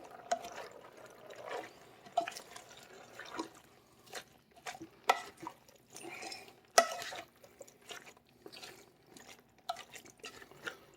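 Tomato is stirred into a pot of cabbage soup. A spoon makes soft, irregular wet clinks and scrapes against the pot, fairly quiet and intermittent.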